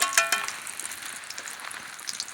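Pancake batter frying in a pan while cooking in a homemade teepee, with a steady soft sizzle, a few louder crackles at the start, then close, even frying noise with no talking.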